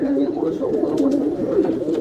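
A domestic pigeon, one of a dealer's fancy breeds, gives soft repeated throaty coos close up, with a person talking alongside.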